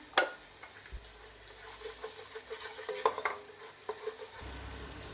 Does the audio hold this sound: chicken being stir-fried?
yes